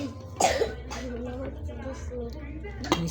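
A child gives a sharp cough up close, followed by lighter throat sounds and a second brief cough near the end, set against a quiet room hum.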